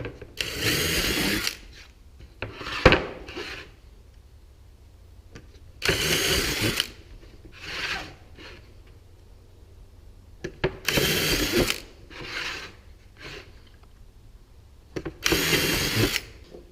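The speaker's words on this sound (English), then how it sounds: "drill these little 1/4 inch holes here on the corners for the legs" A power drill whirs in short, loud bursts, drilling small 1/4 inch holes in wood, about four main runs with quieter whirring and clicks of handling between them, close by.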